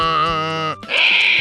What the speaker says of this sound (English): A donkey says, hee-haw,